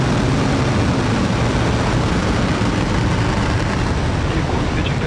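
Falcon 9 rocket lifting off carrying the Sirius SXM-9 satellite, a loud, steady broadband roar filling the whole stretch without letup, with faint announcer talk under the rumble.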